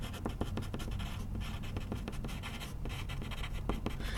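Pen scratching across paper while drawing a ledger line on a music staff, a soft continuous scratch with short strokes, close and fairly quiet.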